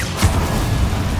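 A Confringo fire spell bursts in Hogwarts Legacy, giving a single close, heavy boom at the start that rolls into a sustained low rumble and crackle lasting the rest of the moment.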